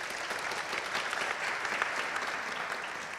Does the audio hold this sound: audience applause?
yes